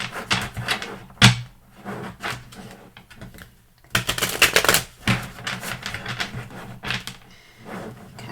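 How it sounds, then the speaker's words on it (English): Tarot cards are shuffled by hand in rapid bursts of papery riffles and slaps, with two longer shuffles separated by short pauses, close and alone without talk. "Let me shuffle real quick"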